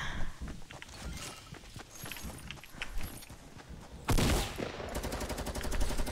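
Video game gunfire, a sudden loud burst of rapid shots near the end following quieter tapping steps and clatter.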